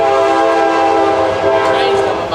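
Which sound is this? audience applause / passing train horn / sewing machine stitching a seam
passing train horn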